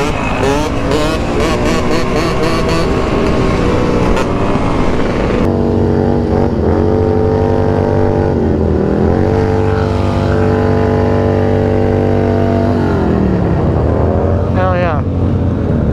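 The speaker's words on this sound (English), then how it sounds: "I don't like being right in the way of Harley's doing burnouts." Harley motorcycles doing burnouts: loud, close engines roaring and revving with pitch rising and falling, rapid sputtering bursts early on, while a man cheers briefly over the noise.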